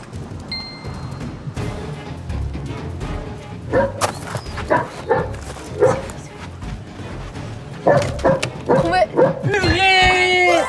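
A video game dog barks and yips repeatedly in short bursts, fairly close, while a person talks over it; some music plays near the end.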